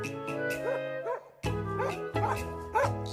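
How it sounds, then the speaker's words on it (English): A small dog's high-pitched, frightened yelp, heard as a rising and falling tonal cry repeated a few times at close range, fairly loud with no talking. "It's a high-pitched yelp a small dog might make when it's scared or hurt."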